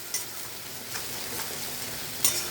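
Spiced paneer and potato curry sautéed in mustard oil, a steady close sizzle with a few spatula scrapes and a sharp clink near the end, no voices.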